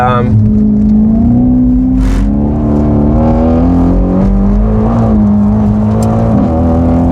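The Aston Martin Formula 1 safety car's engine and exhaust drone steadily on track, a loud, close, sustained engine note that rises and falls slightly in pitch with throttle, while people talk over it.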